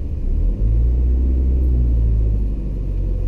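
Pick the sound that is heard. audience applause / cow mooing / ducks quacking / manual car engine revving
manual car engine revving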